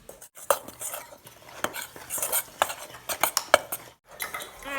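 A utensil stirs sugar cookie ingredients in a bowl, giving close, irregular clinks and scrapes against the sides with short pauses between strokes, and no talk.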